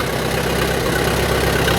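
A 1931 Caterpillar Twenty tractor engine idles steadily, a loud, dense, continuous rumble with no other sounds on top.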